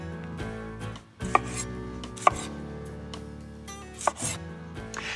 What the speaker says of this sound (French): je vais couper en fines tranches un petit oignon rouge, un concombre anglais que je vais hacher